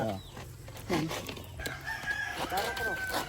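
Roosters crow in a poultry area with free-range chickens nearby, several overlapping calls rising and falling at mid distance over a steady farmyard background, with a voice speaking briefly.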